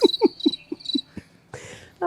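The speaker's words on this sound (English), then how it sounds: "Dude, cricket." A cricket chirps in a quick, regular series of pulses, close and clear, followed by a brief burst of noise.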